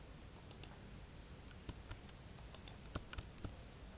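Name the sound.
typing text on a computer keyboard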